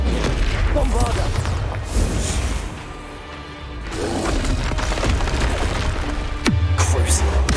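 Bombarda explosion spells in the wizarding action game Hogwarts Legacy, heavy booming blasts and crashing impacts amid continuous combat noise, loud and close.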